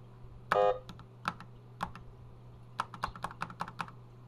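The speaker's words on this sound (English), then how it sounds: "I'm demonstrating the keyboard works" Keys clatter on a Sanyo MBC 555 computer keyboard, close and isolated, starting with a few spaced single presses and ending in a quicker burst of irregular taps, with a faint steady hum underneath.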